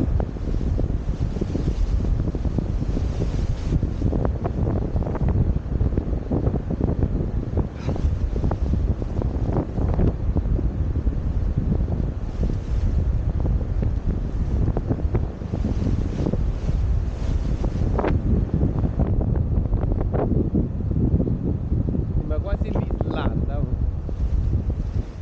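Strong gusting wind roars over a rough, agitated sea at La Pelara on Ischia. Continuous loud rushing buffets the microphone with surf underneath, and voices speak faintly through it.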